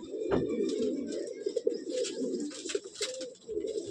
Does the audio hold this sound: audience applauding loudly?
no